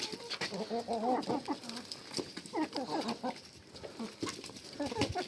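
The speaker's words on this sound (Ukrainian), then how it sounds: "Вредні курки." Chickens cluck and squawk in short, jumbled bursts, close by and fairly continuous, with scattered knocks and rustling underneath.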